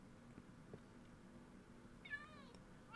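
A Minecraft cat meows once near the end, a short rising-falling in-game mew over a faint low background hum and scattered soft game noises.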